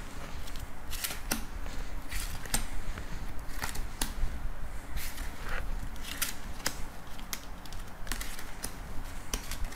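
Tarot cards dealt one by one onto a table to form a fifteen-card spread: a steady run of soft, close slaps and papery ticks over a faint hiss, with no voices.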